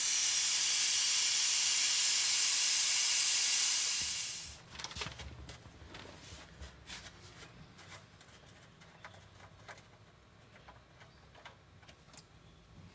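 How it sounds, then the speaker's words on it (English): An air-powered vacuum bleeder draws brake fluid on a Windsor V8 in a workshop, giving a loud steady hiss for about four seconds that cuts off, followed by quieter scattered ticks and clicks, with no talk. "we've still got to hook our brake fluid sucker up to air so we can suck it through"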